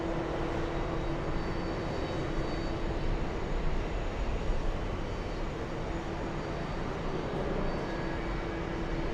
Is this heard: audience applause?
no